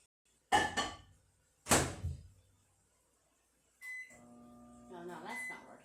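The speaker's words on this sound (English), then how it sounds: "I'm going to microwave that for 10 minutes." A kitchen microwave oven, about to heat a covered bowl of meat, gets two sharp thumps like its door shutting, then a beep, then starts a steady low running hum with faint electronic tones.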